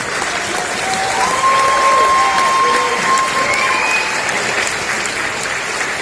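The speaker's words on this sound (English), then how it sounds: "Let's give him a round of applause." A crowd applauds actor-director Justin Chon at a film festival Q&A in Los Angeles, with steady, dense clapping throughout and a few whistles and cheers rising above it.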